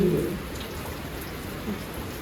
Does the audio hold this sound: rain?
yes